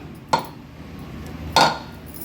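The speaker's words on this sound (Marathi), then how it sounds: "झाकण काढून बघूया आपण" A lid comes off a mixer grinder jar holding coarsely ground poha for idli batter, making two short close clinks about a second apart against a quiet room.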